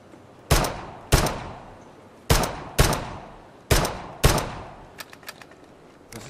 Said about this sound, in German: Und schieße den so ab.